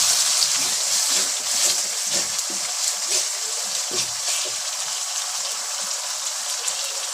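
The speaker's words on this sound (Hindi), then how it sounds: "ये देखो अच्छी तरह मसाला सारा भुन गया" Masala spices frying in a karahi for an aloo karahi dish, a close, steady crackling sizzle broken by bursts of stirring and spattering, with no talk.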